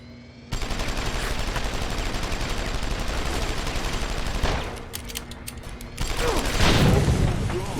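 Rapid bursts of gunfire in Deus Ex: Human Revolution as a barrel is shot during a hard boss fight, loud and sustained with a brief lull before another volley.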